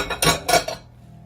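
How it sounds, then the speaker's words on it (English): A spoon scrapes and clinks against a dish while stirring a Greek feta cheese filling for cannelloni, two or three close, bright metallic strokes that then fall quiet. "I'm stirring while I'm talking"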